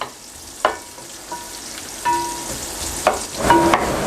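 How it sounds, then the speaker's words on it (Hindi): Onions fry in half a cup of hot ghee in a pot for an Arabic mutton mandi, with soft sizzling broken by a few clinks and stirring scrapes and no talk. "आधा कप घी गरम कर लिया है। तो अभी मैं इसमें डालूंगा प्याज"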